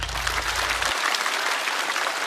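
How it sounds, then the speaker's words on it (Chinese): Studio audience at a stand-up comedy show applauding comedian Xiao Pa, a dense burst of steady clapping that starts over a low hum and carries on at full strength. "掌声送给小帕。"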